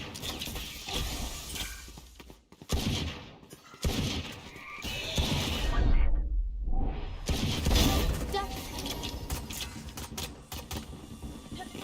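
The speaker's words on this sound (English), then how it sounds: "Shotgun." Shotgun blasts and other gunfire in a tactical shooter video game, loud and sharp, with crashing impacts and a short lull partway through.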